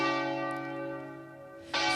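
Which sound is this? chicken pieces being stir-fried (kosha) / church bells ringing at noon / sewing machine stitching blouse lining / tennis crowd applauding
church bells ringing at noon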